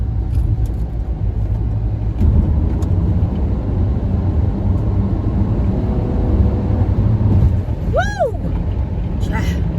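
A Lexus car accelerating to beat a traffic light in Memphis-area traffic gives a close, steady engine rumble for the whole stretch, with people talking over it and a brief chirping sound near the end.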